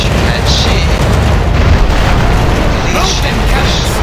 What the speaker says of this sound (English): Cannons loaded. Port fire!